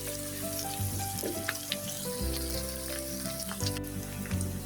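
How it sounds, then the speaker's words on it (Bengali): Onions frying in a pan for spicy eggplant dopiaza make a soft, continuous sizzle, fairly quiet and close, with faint tonal background sound running underneath and no talking. "এই তো পেঁয়াজগুলি আমার ভাজানো হয়ে গেছে"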